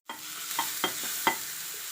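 Mustard seeds fry in a pan with garlic and onion for horse gram rasam, giving a steady hiss of sizzling oil broken by a few sharp pops and crackles, close and alone.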